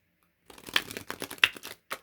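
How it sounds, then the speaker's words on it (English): Tarot cards shuffled close up in a quiet room, soft crisp riffling and slapping bursts that start after a brief silence and come in short uneven clusters. "We are doing live shuffling."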